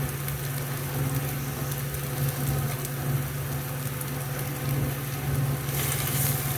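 About a cup of spinach wilting in a frying pan for an omelet, giving a loud, steady, dense sizzle with a low hum beneath it, no voices.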